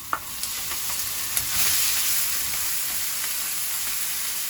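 Ham and shrimp sizzle in a hot pan for fried rice, a steady hissing fry with a few light knocks of a utensil near the start.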